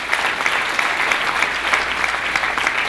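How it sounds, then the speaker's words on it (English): Audience at the NYSID 2016 Preferred Source Champions event applauding, a dense, even wash of clapping from a sizable crowd, steady throughout with no voices. "I want to give them another round of applause for being there"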